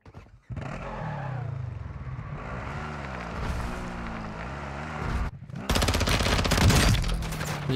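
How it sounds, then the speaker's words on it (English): Rapid gunfire in the video game Warzone 2 on Ashika Island, with a shotgun among the weapons: sustained dense bursts of shots, loud and close, with a brief pause before a second, harsher volley. "Fire shotgun, man."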